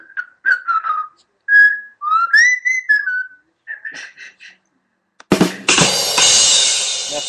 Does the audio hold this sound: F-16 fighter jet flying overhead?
no